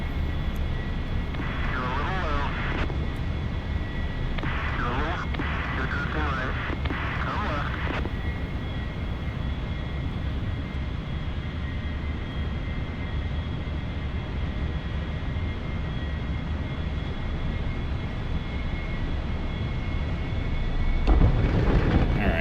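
An A-4E Skyhawk jet in DCS World lands on an aircraft carrier, its engine a heavy, steady roar throughout. A muffled voice comes through early on, and a louder surge and thump arrive near the end.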